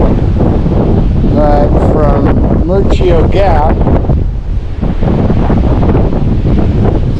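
Strong wind on Mt Diablo buffets the microphone with a constant loud, roaring rumble, while a person talks briefly over it.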